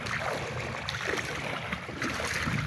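River current flows and laps around a boat near Hatiya's Chairman Ghat in Noakhali, a steady close wash of water with no voices.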